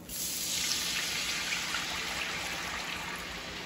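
Liquid mixture poured into a hot pan with seared country-style steak, a steady watery sizzle and rush that holds evenly for a few seconds, close and fairly quiet, with no talking.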